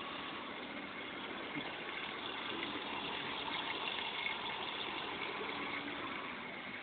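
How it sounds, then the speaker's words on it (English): Water pours steadily into an aquaponics tank, a constant, close, even rushing with a faint pump-like hum underneath and no talk. "The water comes in through there, down to the bottom of this tank, then overflows from the top into this grow bed through there."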